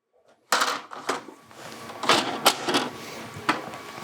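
A printer's feed mechanism draws in a sheet of white toner transfer paper, producing a series of close mechanical clunks, whirs and rattles that start abruptly and continue with uneven bursts.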